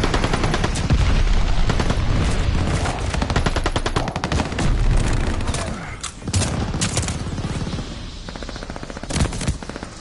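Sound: shotgun fire in the video game Call of Duty: Vanguard

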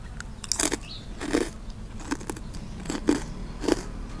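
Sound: crunching crispy baked vegetables

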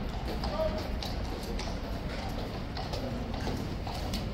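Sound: King's Guard soldier stomping boots

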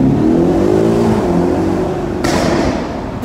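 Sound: Audi RS6 Avant exhaust popping and crackling

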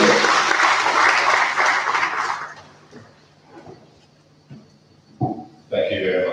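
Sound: audience applause at a lecture

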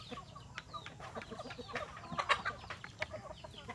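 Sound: chickens clucking on a poultry farm

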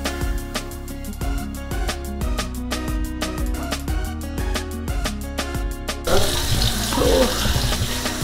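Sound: running tap water while washing up dishes

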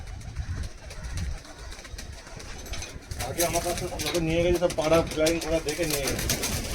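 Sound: pigeons cooing

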